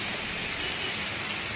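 Heavy rain pours steadily during a thunderstorm, a dense, constant hiss of drops on surfaces with no breaks and no voices.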